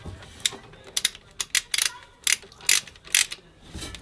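Ratchet wrench clicking in short irregular bursts while working on the engine of a Volvo 850 during a head gasket replacement, close and crisp with brief pauses between pulls and no talk.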